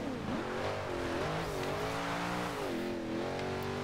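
A 1995 Corvette ZR1 engine in Forza Horizon 2 drones steadily and shifts pitch as the car is driven, a continuous close engine tone with a brief dip and rise, no talk.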